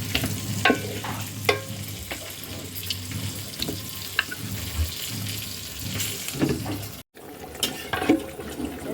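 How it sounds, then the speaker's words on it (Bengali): Beef with ground cumin, garlic, ginger and spices is stir-fried in a pan, giving a continuous close sizzle broken by repeated scraping and clinking strokes of the stirring spoon. "মাংস এখন কষাচ্ছি।"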